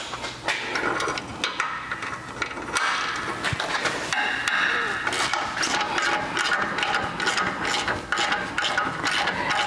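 A hand ratchet works the 17mm caliper bracket bolts on the rear brakes of a 100 Series Land Cruiser / LX470, giving loud, rapid clicking bursts in repeated strokes with brief pauses between them.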